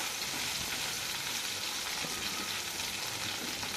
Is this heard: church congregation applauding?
no